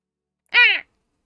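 A video game creature gives a single short crow-like caw, a brief harsh cry that falls in pitch, heard alone against silence.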